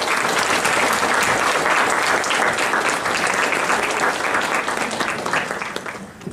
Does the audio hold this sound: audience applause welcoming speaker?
yes